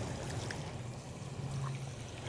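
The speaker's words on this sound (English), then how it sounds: "Now I'm just going to add water." Water poured into a pot of beef stew, a continuous soft trickling stream at steady level with a low background hum, fairly close and quiet, no talking.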